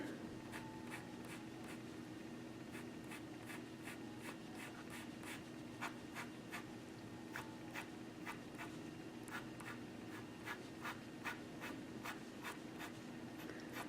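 Pencil scratches on paper while a realistic lion mane is drawn: quiet, close, rapid short strokes repeating in an even rhythm against a faint steady background hum.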